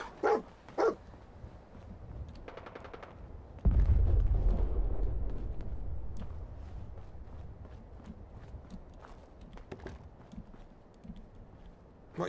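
Dogmeat, the dog companion in Fallout 4, gives a couple of short barks near the start inside Milton General Hospital, followed by a burst of game noise and scattered ambient clicks.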